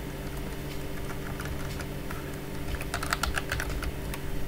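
Computer keyboard typing while entering a color value in a WordPress Elementor editor: quick, fairly close clicky keystrokes in an irregular burst that grows busier toward the end, with no voice over them.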